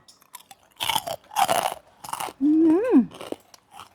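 Crispy pork rinds crunch between teeth in four or five loud, close bites separated by short pauses, followed by a brief rising and falling hummed vocal sound.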